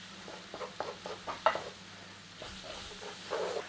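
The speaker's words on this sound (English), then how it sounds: "2 tablespoons of all-purpose plain flour. Cook with the vegetables. We're going to take the rawness out of the flour" All-purpose plain flour cooking with vegetables in a pot for chicken corn chowder, a soft sizzle under quiet stirring scrapes and taps, close and moderate in volume.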